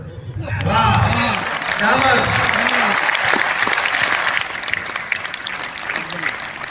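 An auditorium audience at a Hindi comic poetry gathering bursts into sustained, dense applause, clapping steadily for several seconds under a speaker's voice before tapering.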